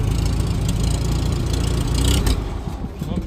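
A Farmall tractor engine idles steadily with a rough, loping chug, close by, with a brief rise in intensity partway through.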